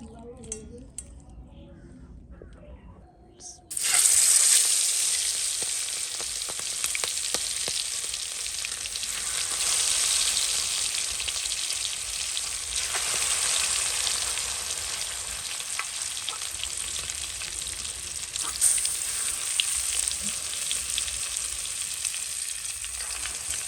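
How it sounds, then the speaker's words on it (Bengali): Shrimp sizzle steadily in a hot frying pan, a loud broadband crackle kicking in suddenly after a few quiet seconds and continuing with occasional utensil clinks. "এই যে চিংড়ি মাছ ভাইজা নিতেছি"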